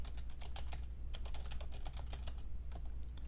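Rapid, uneven keystrokes on a computer keyboard, close and fairly quiet, forming a continuous patter with brief pauses and no voice.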